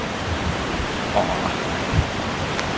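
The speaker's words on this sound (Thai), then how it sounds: "มีน้ำตก มีแบบ น้ำไหลมาจากภูเขาเลยนะ" At Walchensee in Bavaria, a waterfall pours down a mountainside among large rocks, giving off a continuous, even rush of water. A few faint, brief background sounds rise slightly above the steady flow.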